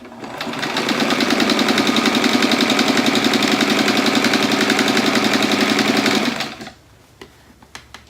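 Close, loud sewing machine runs a long steady stitch down the raw edge of a quilt seam, a rapid even hum for about six seconds before stopping abruptly, followed by faint handling clicks.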